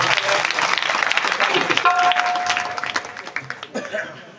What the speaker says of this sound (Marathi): एकदा कलाकारांसाठी जोरदार टाळी वाजवा.